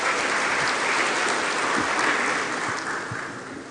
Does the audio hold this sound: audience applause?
yes